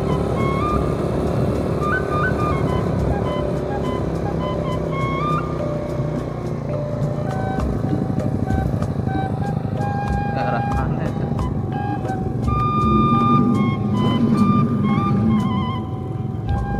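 Car climbing a steep uphill road toward Baros Cikalong in the Cianjur hills in second gear, a steady engine drone and road rumble running throughout, with people talking over it.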